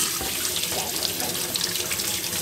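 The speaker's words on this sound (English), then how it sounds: "All right, wash your hands." A kitchen faucet runs in a steady, full stream while a child washes hands during cake baking, close and loud throughout with no talking.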